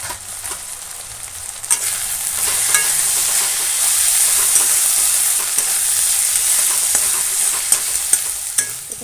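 Spice masala with cumin and pepper powder frying on low flame for egg curry, a loud, steady hiss of sizzling oil with occasional soft pops and scraping stirs throughout.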